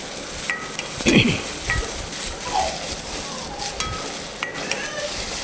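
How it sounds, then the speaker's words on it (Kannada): Onions and curry leaves fry in a pan, with a steady sizzle and a few scraping stirs of a spoon against the metal, close and fairly loud, with no voice over it. "ಕರಿಬೇವಿನ ಸೊಪ್ಪು ಹಾಕಬೇಕು ಮತ್ತು ಅದಕ್ಕೆ ಈರುಳ್ಳಿ ಹಾಕಬೇಕು ಚೆನ್ನಾಗಿ ಹೀಗೆ ಫ್ರೈ ಮಾಡಬೇಕು"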